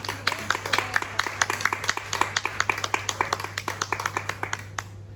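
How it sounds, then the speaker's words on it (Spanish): Hand clapping for Olivia at a baptism celebration during a culture week, a small group clapping in a quick, fairly regular rhythm with crisp distinct claps close by, over a low steady hum, ending abruptly. "Un fuerte aplauso para Olivia"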